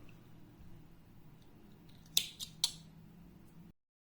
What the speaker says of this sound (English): Yes, I am cutting.